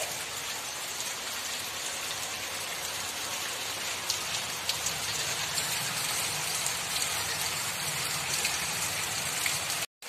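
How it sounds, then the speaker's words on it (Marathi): Heavy monsoon downpour drums on a metal sheet roof over farm fields, a dense, constant roaring patter that holds at an even level throughout with no voices. "कसा मुसळधार पडतोय पाऊस। पत्र्याचा आवाज येतोय।"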